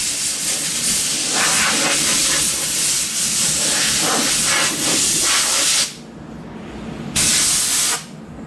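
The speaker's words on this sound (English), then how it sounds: "I'm going to take my air compressor" Air compressor nozzle blasting excess stain out of routed lettering on a wooden sign, a loud continuous hiss of compressed air for about six seconds, a brief pause, then another short burst.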